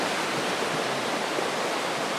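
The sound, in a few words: turbulent river rushing by a campsite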